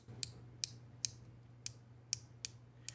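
Seven sharp, crisp clicks at uneven intervals over a low steady hum, close and fairly quiet: a magnetic Ji Li slider fidget toy by YEDC, its inner piece jumping from magnet to magnet.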